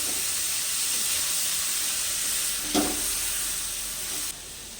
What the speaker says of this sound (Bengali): চিকেনটা এবার এর মধ্যে আমি দিয়ে দিচ্ছি